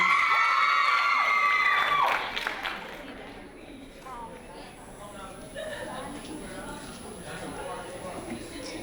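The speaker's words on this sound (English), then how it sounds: "Give him a warm round of applause, please." An audience cheers and shouts with whoops for a poet at a live performance, peaking loud for about two seconds, then thinning into scattered claps and murmuring voices of a crowd.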